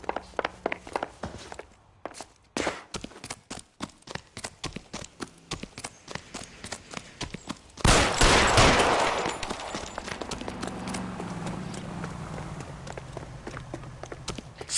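Gunfire in L.A. Noire: a long run of sharp, evenly spaced shots, then a loud dense burst of fire that fades into rumbling ambience, with little talk.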